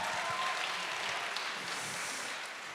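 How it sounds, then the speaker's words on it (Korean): Steady crowd applause at a Korean cultural festival concert, a continuous wash of clapping from many people that holds at an even level throughout. "박수 한번 보내주세요"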